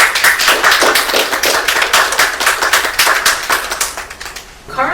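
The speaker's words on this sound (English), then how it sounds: "Let's please give a big round of applause to the library and the library's director" An audience at a library lecture event breaks into brisk, close applause, a dense patter of many hands that tapers off toward the end.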